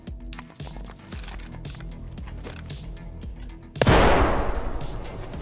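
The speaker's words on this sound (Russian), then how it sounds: "Выбираете направление для слепой стрельбы. В этот момент достаете гранату и просто бросаете ее." In Escape from Tarkov, a grenade is tossed during blind fire. Quiet clicks and gear handling lead to a sudden loud, booming blast that rumbles and decays over the final seconds.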